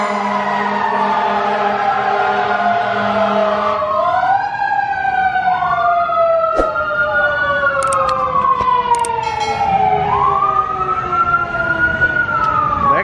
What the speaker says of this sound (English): That's always a little spooky in Gatlinburg when you see a fire truck hauling butt